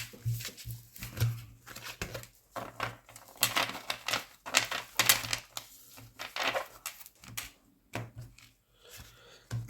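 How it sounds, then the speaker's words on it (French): Marseille tarot cards are shuffled and drawn, giving irregular papery rustles, flicks and taps that are fairly close and moderately loud, with a brief voice now and then. "on va tirer 5 cartes."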